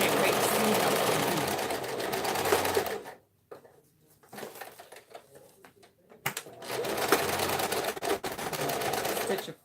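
Sewing machine stitching across the bottom of a tote bag, loud rapid whirring bursts that stop for a quiet pause, then restart and run steadily.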